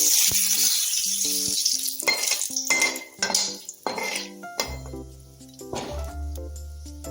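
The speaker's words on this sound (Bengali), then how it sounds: "এখানে একটু গোটা জিরে দিয়ে দিলাম ফোড়নে।" Whole cumin seeds and a bay leaf sizzling in hot oil in a kadai, with several metallic clinks and scrapes of a utensil against the pan and a low hum partway through.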